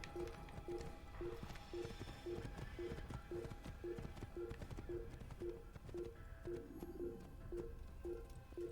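Horse hooves clip-clopping at a slow walk in the Assassin's Creed video game, an even, regular beat of soft knocks under a quiet game backdrop, faint and without speech.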